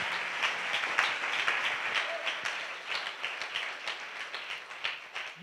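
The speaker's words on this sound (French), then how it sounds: "acclamons pour vous-même." A church congregation applauds, with many hands clapping in a dense, steady wash that stays fairly distant and even throughout.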